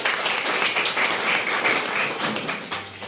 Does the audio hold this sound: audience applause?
yes